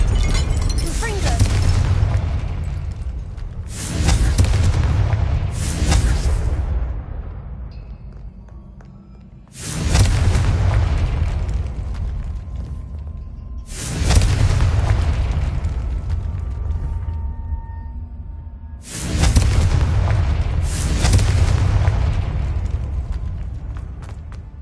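Repeated Confringo spell blasts in Hogwarts Legacy, five or six heavy booming explosions at intervals of a few seconds, each a sharp burst that decays into a low rumbling roar, loud and close over continuous game sound.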